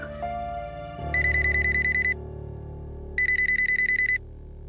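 Telephone ringing in a home, two clear electronic ring bursts about a second long each, separated by a pause, over a low sustained musical drone with no talk.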